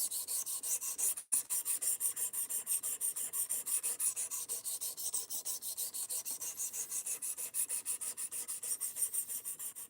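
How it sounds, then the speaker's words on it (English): Knife blade sharpened freehand on a stone, a close, rhythmic rasping of repeated strokes back and forth, steady and even, with one brief break early on and no voices. "My freehand sharpening looks pretty ugly, but it gets it sharp."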